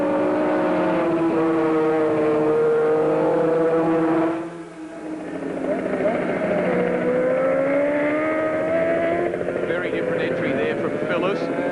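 Superbike motorcycles, including a Honda, racing at Phillip Island in the 1989 ARRC Superbikes race: loud, close engine whine with shifting pitch that dips briefly midway, then climbs again as the bikes pull away.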